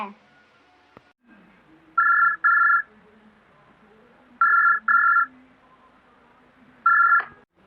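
Telephone ringback tone on an outgoing call: three paired double-burst rings, clear and moderately loud, separated by quiet gaps with a faint low murmur in between.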